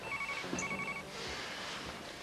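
A domestic telephone rings with short repeated trilling bursts, moderately close and clear, followed by faint room noise and movement.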